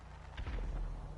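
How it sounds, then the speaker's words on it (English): Fireworks exploding in a video game, heard as a short cluster of muffled, deep booms that rise out of a low background rumble and fade within about a second. "Fireworks, okay."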